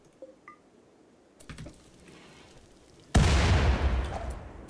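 Gun turrets in RimWorld open fire: faint clicks and a few soft pops lead into a sudden loud burst of rapid shots that rings on and slowly fades.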